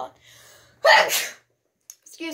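A single close, sharp human sneeze bursting out after a short breathy buildup while a woman unboxes a large Jurassic World toy dinosaur, followed by brief quiet.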